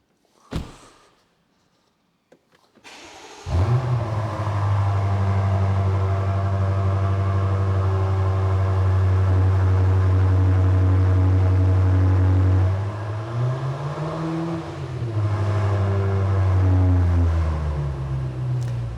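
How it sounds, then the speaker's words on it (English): BMW F90 M5 xDrive cold start: after near silence and a faint click, the engine catches with a loud roar and settles into a high, steady idle. Partway through, the revs dip and swell briefly, then it holds its loud hum. "Cold start on these cars has always been known for being rather fruity."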